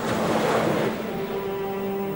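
Sea waves wash in a broad, rushing surge that swells and then eases into a softer steady wash, heard close and alone with a faint tonal hum beneath.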